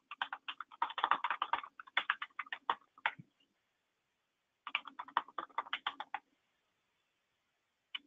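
Rapid typing on a computer keyboard while taking notes, two close, quiet bursts of clicking keystrokes separated by a pause, with a single click at the end.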